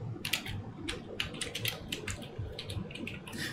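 Quick, uneven keystrokes clatter on a computer keyboard while a quiz title is typed, bursts of clicks spread across the moment over a low steady room hum, close and moderately quiet with no one speaking.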